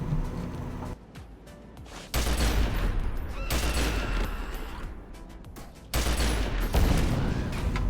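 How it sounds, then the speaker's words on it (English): Gunfire and heavy blasts from a grenade-launching weapon in a first-person shooter game, loud, with bursts that start abruptly and stay dense across the whole stretch, then a fresh burst near the end. "I mean, I can fire a grenade."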